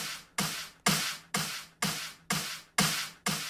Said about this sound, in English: I also have a clap that is doing the exact same thing with the kick